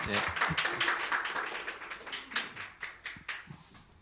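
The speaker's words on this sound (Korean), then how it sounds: "큰 박수로 환영해 주십시오" A church congregation at a Sunday morning worship service claps to welcome the visiting pastor. The clapping starts fairly full, then thins into a few scattered claps, soft and somewhat distant.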